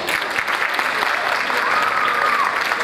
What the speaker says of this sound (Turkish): Gerçekten bu alkıştan daha fazlasını hak ettim.